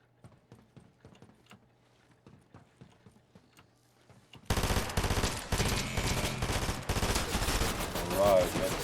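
A shotgun fires in the video game Fortnite: about four seconds of faint, sparse ticking footsteps, then a sudden loud burst of heavy gunfire that keeps going to the end.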